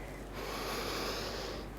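Breathing during a Pilates exercise: one long, airy exhalation through the nose or mouth, close and soft, lasting over a second with a gentle rise and fade.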